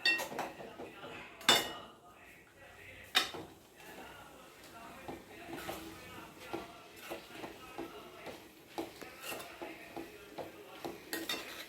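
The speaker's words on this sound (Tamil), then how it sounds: "இப்போ நம்ம இந்த சாதம் போட்டு பரட்டிடுவோம்." A utensil scrapes and clinks against a pan in repeated strokes, stirring rice, with a few sharper knocks, close by and moderately loud.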